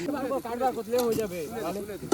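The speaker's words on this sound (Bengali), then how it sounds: "আলু ভাজা শুরু করেছে, দাঁড়িয়ে দাঁড়িয়ে ভাজছে" Potatoes fry in a pan at a night-time winter picnic, a constant sizzle with occasional stirring and utensil clinks, largely under voices talking nearby.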